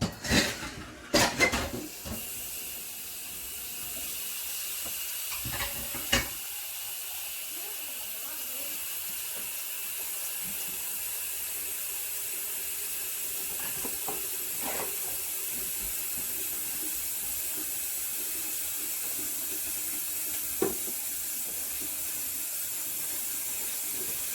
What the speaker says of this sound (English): To clean your pot, just run this under some hot water and let it soak